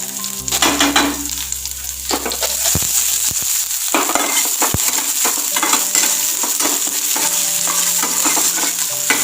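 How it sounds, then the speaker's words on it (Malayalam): Shallots and two dried red chilies sizzle and crackle in hot oil with fenugreek seeds, a steady close frying hiss broken by stirring scrapes and clinks of a spoon against the pan, no voices. "വെങ്കായം ലേശം നന്നായിട്ട് ഫ്രൈ ആവണം"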